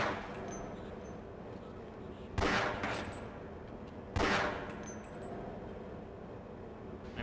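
Gunfire in the video game Half-Life on PS2, with two sharp loud bursts standing out over a steady low game background hum, clearly separated by a short pause.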